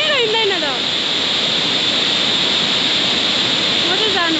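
A swollen river rushes in a steady, loud, broadband roar close by. It continues unbroken throughout, with a voice heard briefly at the start and again near the end.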